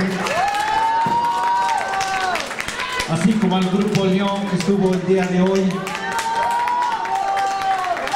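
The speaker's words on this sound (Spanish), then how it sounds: "Vamos a darles un fuerte aplauso a 4TR" An audience in the La Raza metro station claps and cheers for the group 4TR, a lively spread of applause in a reverberant hall under an amplified host's voice.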